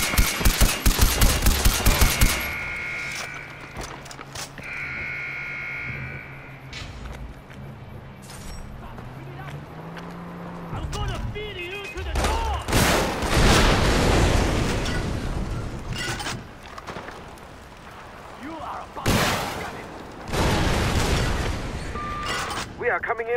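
Gunfire and explosions in Far Cry 4 during an assault on the Pokhari Ghara outpost, with bursts and heavy blasts that come and go among mechanical game sounds, with a voice speaking at times.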